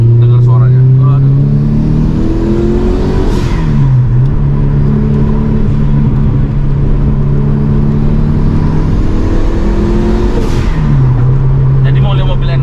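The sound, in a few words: Subaru GC8 Type R engine revving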